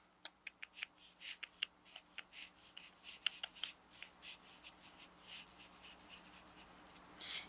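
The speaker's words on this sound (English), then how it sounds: "Then I'm going to draw on the top side. So I'm going to draw some grass." Pen strokes drawing grass on a paper towel laid over scratch paper: quick, faint, scratchy marks in an uneven rhythm, close up and quiet, with no one speaking.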